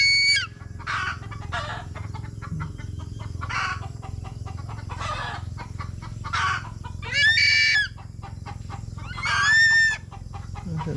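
A flock of chickens clucks in short, repeated bursts, some loud and close and others softer, over a steady low background hum.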